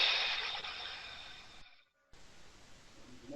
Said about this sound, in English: You make that sound by having your mouth partially closed, like you're breathing through your teeth.